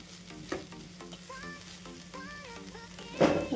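Paneer bhurji masala gets stirred in a pan, a soft frying sizzle with clinking spoon scrapes and taps, quiet and close, ending in a louder burst of sizzle.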